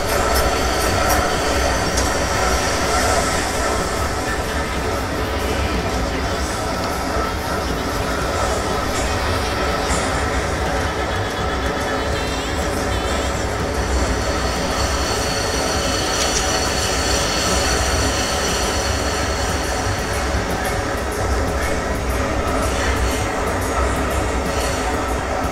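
Metro train ride in the video game Garry's Mod Metrostroi, heard from inside the passenger car: a loud, continuous rumble of rolling wheels with squealing and faint clatter, steady throughout, with occasional speech underneath.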